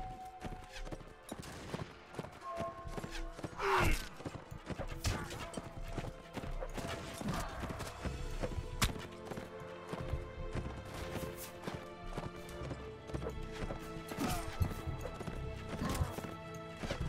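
Horse hooves gallop in a fast, steady clip-clop through a Mount and Blade battle, with whinnies, clashing metal and shouts of combat layered over a busy, dense game mix.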